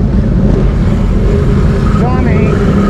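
A Can-Am Renegade ATV engine runs in high gear with a steady, loud, broadband drone and a rough low rumble that does not let up, while a voice speaks over it.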